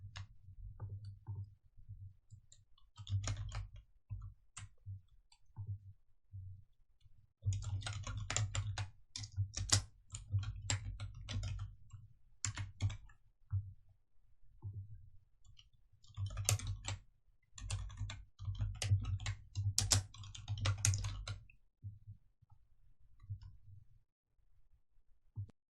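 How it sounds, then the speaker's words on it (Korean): Steady computer keyboard typing while entering slide text in PowerPoint, with bursts of quick close key clicks separated by short pauses, alone without talk. "적용 후 내용 타이핑하십니다."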